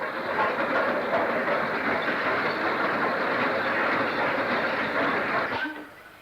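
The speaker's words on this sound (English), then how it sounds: "48519 arrives out of the tunnel and past Blackburn East signal box on a partly fitted Class 6 freight" Locomotive 48519 hauls a partly fitted Class 6 freight train out of a tunnel and past Blackburn East signal box, a loud steady rumble and clatter of passing wagons that cuts off sharply near the end.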